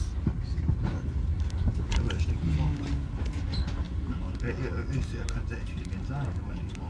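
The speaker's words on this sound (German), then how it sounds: "Wir fahren übrigens hier mit seinem Zug, wer jetzt gerade hier an uns vorbeifährt." A train passes close by at Aachen station, a steady low rumble with faint rail clatter that stays loud throughout, while people talk over it.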